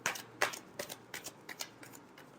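Tarot cards being shuffled in a run of quick, soft riffling bursts, close and quiet, with no talk over them.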